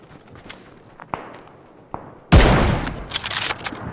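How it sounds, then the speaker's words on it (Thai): Gunfire in PUBG: a few scattered single shots crack at first, then a loud burst of rapid fire erupts and rattles on with trailing echoes. "อะจะโดนยิงสวน"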